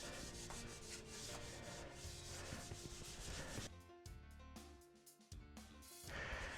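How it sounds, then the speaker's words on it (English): Quiet, continuous rubbing as a cloth wipes sanding dust and paint off a PlayStation 5 cover, in steady back-and-forth strokes with a brief pause near the end. "So we're just wiping off any of that sanding dust, any of that extra paint."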